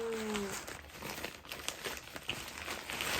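A plastic bag crinkles and rustles in quick, close, quiet bursts as a cheap silver tripod is unpacked in a small hotel room.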